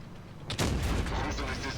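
A sudden heavy tank cannon boom from an Object 907 tank in a video game crashes in mid-clip and rolls into a long rumbling echo over a dull background.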